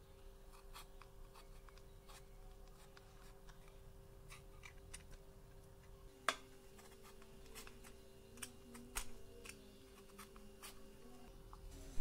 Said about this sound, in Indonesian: Kemudian kentangnya kita kupas sampai bersih.